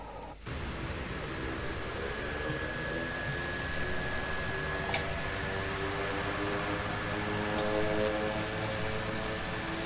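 A Pilatus propeller aircraft in Microsoft Flight Simulator 2024 roars steadily on its takeoff run, with the engine droning and the propeller pitch rising slowly, heard alone and fairly quiet throughout.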